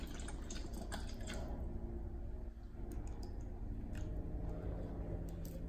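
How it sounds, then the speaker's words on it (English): Bottled Arctic Sol natural spring water from California is poured in a steady, continuous stream, with a soft splashing wash and a few brighter drips, close up and unbroken. "Let's pour some water in."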